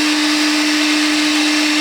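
A Makita vacuum fitted with a cyclone separator attachment runs steadily at full suction, a loud continuous motor whine with a strong steady tone and broadband airflow hiss, heard alone without talk.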